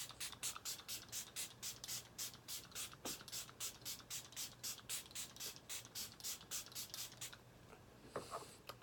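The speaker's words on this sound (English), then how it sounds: "I'm going to take some setting spray and see if that'll help." Close-up bursts of Catrice Dewy Glow Setting Spray hiss in a fast, even rhythm, repeating many times before a short pause and a final spritz.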